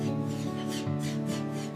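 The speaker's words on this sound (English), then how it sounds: "Slow, steady filing transforms rough cast metal into graceful elegance." A file rasps slowly and steadily across rough cast brass from scrap faucets, a close, continuous rubbing stroke repeated a few times with no voices.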